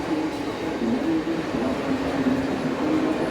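A train rumbles steadily at a railway station, a continuous mid-distance roll with a faint squealing tone running through it and no clear voices.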